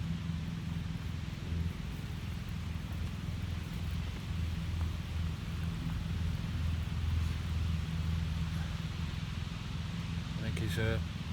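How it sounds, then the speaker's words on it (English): A farm tractor ploughing in the neighbouring field during a countryside wild camp gives a steady, low engine drone in the distance, continuous and unbroken, with faint outdoor wind around it. "That noise you can hear in the background is a farmer in the next field."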